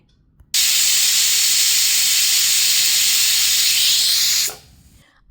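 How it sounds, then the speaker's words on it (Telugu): A loud, steady hiss of steam blasting from a pressure cooker whistle on medium flame while cooking jackfruit dum biryani, lasting about four seconds, starting abruptly and then cutting off. "ప్రెషర్ కుక్కర్లో మీడియం ఫ్లేమ్ మీద ఐదారు విజిల్స్ రానివ్వాలి"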